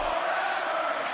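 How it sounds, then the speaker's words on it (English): A capacity arena crowd in the wrestling video game WWE Mayhem, a loud, steady roar of cheering that holds evenly for a second or so without any talk. "A capacity crowd is here tonight."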